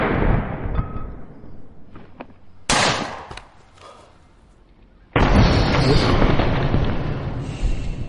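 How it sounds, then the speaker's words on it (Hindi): Sharp, loud blasts from an air pressure cannon fired point-blank at a gelatin target burst out twice, each followed by a hissing, rushing roar that trails off; the second blast is the bigger one. "प्रेशर के धमाके ने जेलेटिन को हड्डियों से अलग कर दिया"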